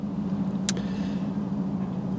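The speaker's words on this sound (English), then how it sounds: "we're just gonna go around the block so you can hear it, hear the supercharger whistle" A 1999 Shelby Series 1 with a supercharged engine cruises around the block, its steady low engine hum running continuously with a brief sharp click partway through, no talk.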